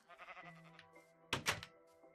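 A Minecraft sheep on Xbox One bleats softly and close, followed by a couple of sharp thuds, all quiet and with no talking.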